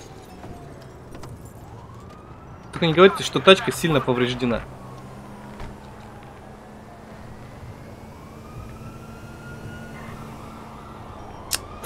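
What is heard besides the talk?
police car sirens in GTA 5, a video game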